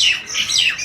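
A cartoon crow named Kalu caws in a short burst of harsh, squawking calls, loud and close, with no voices over it.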